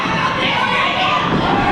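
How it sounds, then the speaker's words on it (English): A very enthusiastic wrestling crowd at an SWE Fury show shouts and cheers in a steady, dense roar that fills the whole moment without letting up. "a very enthusiastic crowd, shouting along, cheering along Miranda Gordy"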